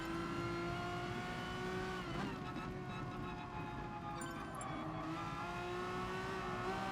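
Race car engine in the Gran Turismo Sport video game, holding a steady high drone with gear shifts and revs, plus a brief screech of tyre squeal partway through, continuous and loud.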